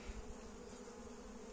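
Honey bees hum softly on a hive frame where they are drawing out comb on homemade smooth foundation, a faint continuous buzz with no pauses.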